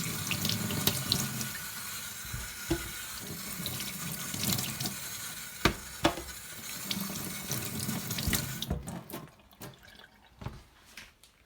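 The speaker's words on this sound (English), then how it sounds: "We wash the peeled potatoes and put them aside." Running tap water splashing into a kitchen sink as peeled potatoes are washed, a steady close hiss with occasional knocks and clunks, then the flow cuts off near the end.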